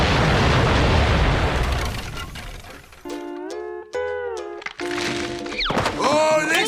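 An atomic bomb blast in a SpongeBob SquarePants cartoon opens with a loud, roaring broadband rumble that fades over a couple of seconds, followed by cartoon voices and tonal sound effects.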